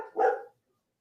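A single short dog bark at a garbage collector, fairly close, followed by silence.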